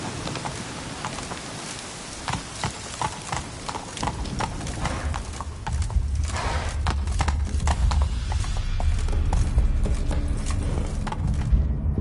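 Horse hooves clip-clop steadily in The Witcher during the Ladies of the Wood quest, with a rhythmic trot that grows louder and denser midway, a faint rain-like hiss and low rumble underneath.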